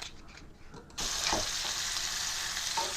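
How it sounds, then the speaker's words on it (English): Pork sausage browning in olive oil in a pan makes a quiet stirring shuffle at first, then a loud, steady sizzle that sets in abruptly and holds evenly to the end. "I'm gonna add some pork sausage to the pan and just brown it in the olive oil"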